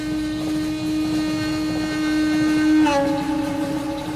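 A steady mechanical rumble with a sustained tonal hum, like a train moving along, continuous throughout with a slight pitch shift near the end.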